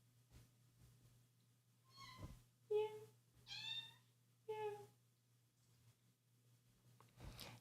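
A house cat meows several times after waking up in a quiet bedroom, three or four short, faint chirping calls spaced about a second apart over a low steady hum.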